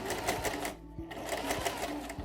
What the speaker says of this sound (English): Let your machine stitch over those pleats.